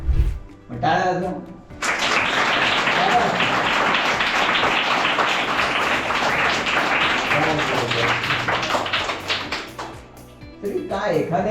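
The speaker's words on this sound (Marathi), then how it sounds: "टाळ्या वाजवा." Audience applause bursts in and holds as a dense, loud, steady clatter of clapping for about eight seconds, then fades, with a voice speaking just before and after.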